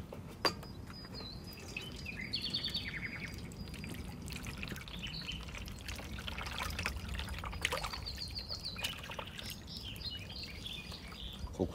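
Elderflower syrup liquid being strained, a steady light pouring and trickling with occasional drips, faint and close, with soft chirping in the background.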